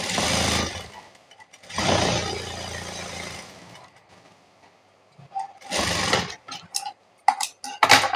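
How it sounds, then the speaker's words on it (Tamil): Sewing machine stitching down a folded fabric edge for a churidar neck pattern backed with canvas, running in two loud bursts separated by a pause, followed by scattered short clicks and knocks. "இப்போ இதெல்லாம் பிசுறு வராத மாதிரி நம்ம வந்து ஃபர்ஸ்ட் மடிச்சு தைச்சிடலாம்"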